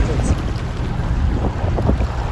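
A sailboat leaves Porto Santo under sail, bound for Las Palmas de Gran Canaria, with steady loud wind rumble, rushing water and hull wash throughout and no voices.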